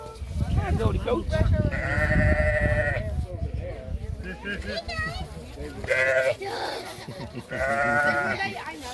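Goats bleat repeatedly at a sheep and fiber festival, several drawn-out calls rising over a steady murmur of nearby people talking and outdoor bustle.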